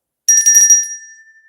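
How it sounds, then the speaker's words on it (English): A bell struck once rings out with a bright metallic tone that hangs and slowly decays over about a second, sustained and alone. "the bell still reverberates and rings for a few seconds"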